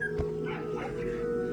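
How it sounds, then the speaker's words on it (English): A dog barks and whimpers in a house, producing a short yelp followed by softer whining calls over a steady background hum, moderately close. "I hear the dog."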